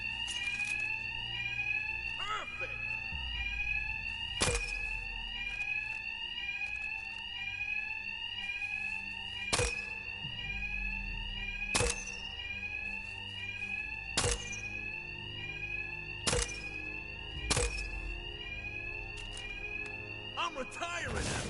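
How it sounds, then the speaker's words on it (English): Fire alarms blare continuously in Batman: Arkham Knight, a steady high electronic ringing that runs the whole time, punctuated by heavy impact thuds from combat at irregular intervals. "these thugs can't hear a thing over the alarms"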